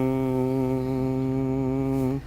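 A voice imitates a slow internal engine with a steady, low, droning hum held for about two seconds before it cuts off. It is loud and close, and no other sound accompanies it.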